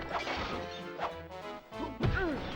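In the Disney Hercules action game on PlayStation, glass birds shatter in several sharp crashes and whacks, spaced unevenly, with a brief electronic game cue between them and no speech.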